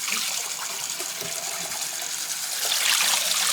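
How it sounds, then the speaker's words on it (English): Fresh water gushing steadily from a tap over soaked chickpeas as they are rinsed, a continuous close splashing rush with no talk. "So now I'm going to empty this out and rinse it out a couple of times with fresh water."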